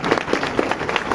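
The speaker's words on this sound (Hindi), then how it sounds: "स्पीच के लिए मोइन अब्बास स्टेज पर आ रहे हैं, आपकी जोरदार तालियों में।" Audience applause at a school speech event for Pakistan's Defence Day, a steady wash of clapping from a crowd greeting someone speaker coming to the stage, continuous and fairly loud for about a second.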